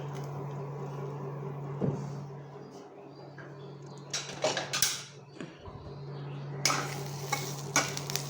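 Vermicelli fries lightly in a hot pan with a low steady hum underneath, broken by bursts of scraping and stirring that hiss loudly in the middle and again near the end.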